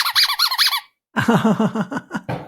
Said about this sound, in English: there's an amusing dog at the background playing with his toy